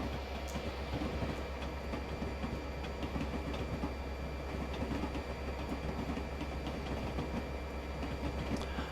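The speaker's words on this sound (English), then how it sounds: "Train." A train in Train Simulator 2020 runs on rails through a New York yard toward Penn Station, with a steady low rumble, a constant engine drone and faint rhythmic wheel clicks throughout.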